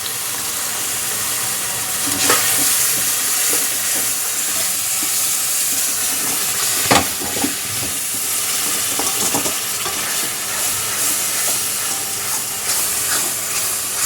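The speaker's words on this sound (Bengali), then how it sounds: "এবার এর মধ্যে দিয়ে দিচ্ছে মা বাকি দুধটা হ্যাঁ বাকি ফুটিয়ে রাখা দুধটা দিয়ে দিচ্ছে" Milk poured into melted sugar and coconut in a pan for semolina puli payesh gives a steady steamy hiss and bubbling, with a few sharper splashes and occasional stirring scrapes, close up and without talking.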